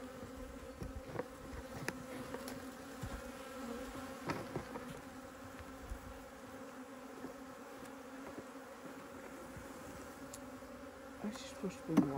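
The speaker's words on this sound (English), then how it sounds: "These bees are a bit more unhappy." Honey bees buzz continuously in a low, droning swarm, steady and fairly close, with occasional louder passes near by.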